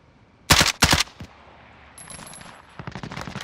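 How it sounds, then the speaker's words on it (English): Video game gunfire: two loud, close bursts of rapid shots open the passage, then a lull with scattered rounds, followed by a quicker stream of lighter, more distant-sounding shots rattling toward the end. "Getting shot in multiple directions."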